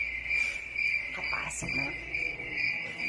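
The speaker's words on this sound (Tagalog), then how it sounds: "Ingay na mga kuliglig." Crickets chirping in a steady, high, unbroken trill, fairly loud and close, with a brief spoken phrase and some rustling over it midway.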